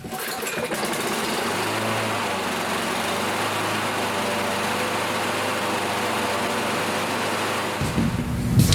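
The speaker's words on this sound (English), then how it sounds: "I'm going to test this engine out before I move forward." A lawnmower engine pulls into life and runs steadily at a constant buzzing drone for several seconds, close and loud, before cutting off near the end.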